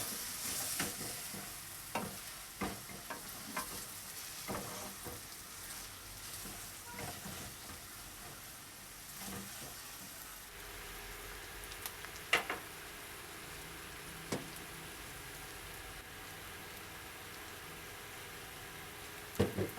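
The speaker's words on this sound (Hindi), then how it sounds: "गैस को थोड़ा स्लो करते हैं और कप से मिक्स कर लेते हैं।" Bitter gourd and onion mixture sizzles and fries in a pan on low heat, with steady crackling under repeated scraping and stirring strokes and a few sharper clinks of the utensil.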